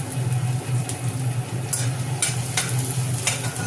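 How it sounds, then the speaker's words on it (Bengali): Chopped ginger and garlic stir-fried in hot white oil in a wok, a steady close sizzle with occasional scraping strokes of the spatula, no talk over it. "এইবার কড়াতে আরও 3 চা চামচ সাদা তেল দিয়ে ওর মধ্যে আদা কুচি, রসুন কুচি দিয়ে ভালো করে নেড়ে নেওয়া হলো"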